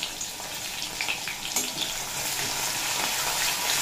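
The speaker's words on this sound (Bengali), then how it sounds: "আদা কাঁচা লঙ্কা দিয়ে অল্প নাড়াচাড়া করে নেব।" Chopped green chillies and ginger sizzle steadily in a hot pan, a continuous bright frying hiss with a few soft scraping stirs and a faint clink near the middle, with no one speaking.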